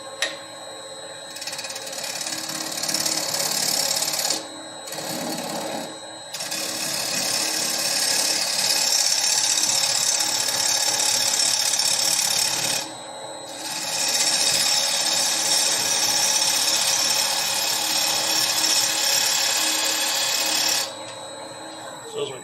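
A gouge cuts a green wood bowl on a spinning lathe, a loud, close, harsh scraping hiss with a steady mechanical hum beneath, in long sustained passes broken by brief pauses as the tool lifts.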